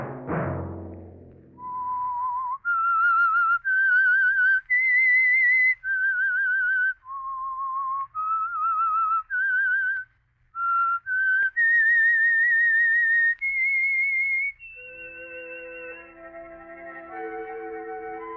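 A lone whistler carries the slow, clear theme of The Whistler radio show in sustained notes, followed by a brief orchestral chord, with a short burst of noise at the start.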